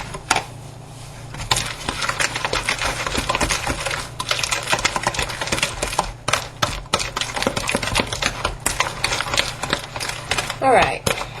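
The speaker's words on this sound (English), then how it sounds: "I'm going to mix that in." Oatmeal raisin cookie dough is stirred in a bowl, giving a busy clatter of spoon-on-bowl taps and scrapes that runs steadily and close throughout, with a voice chiming in briefly near the end.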